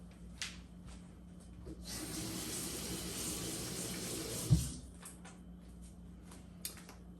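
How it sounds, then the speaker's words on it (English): Water runs briefly to rinse out a plastic dropper, a soft hiss of a few seconds framed by faint clicks and a small knock, heard close and quiet. "Rinse out my dropper."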